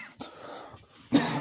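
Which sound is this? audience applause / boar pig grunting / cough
cough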